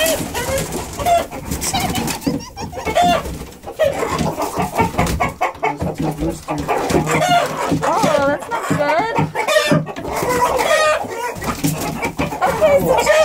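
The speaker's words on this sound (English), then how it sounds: "Trying to mate with another rooster." Roosters in a backyard flock, one rooster trying to mount another, with loud clucking, squawking and crowing calls throughout, heard close under excited talking.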